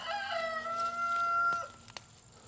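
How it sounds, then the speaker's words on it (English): Near a backyard garden, a rooster crows clearly in one long drawn-out call, with a few brief clucks from chickens and turkeys nearby afterward. "Can you give that to the chickens and the turkeys, please?"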